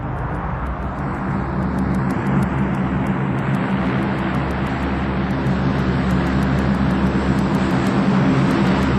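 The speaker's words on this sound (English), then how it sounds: "A tactical landing. The bulk of a Hercules brought to a halt in about 750 meters" A Hercules transport aircraft making a short tactical landing, its turboprop engines producing a loud, steady low droning roar with broadband rumble that holds constant throughout, with no voices.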